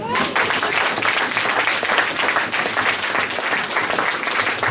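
A church congregation applauds the Lord, steady dense clapping sustained throughout with crowd voices mixed in.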